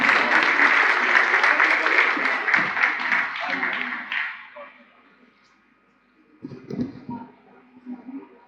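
Audience applause at a District Governor installation ceremony, given in honour of a guest's birthday: loud sustained clapping for about four seconds that fades away, followed by brief scattered claps and murmuring.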